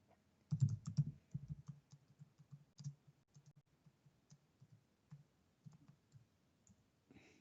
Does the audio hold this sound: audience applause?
no